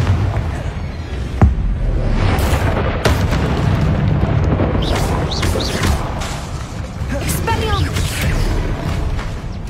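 Explosive Bombarda and Confringo spells in the Hogwarts Legacy video game set off repeated heavy booms and crashes in a dense, continuous battle din, with voices shouting over the blasts.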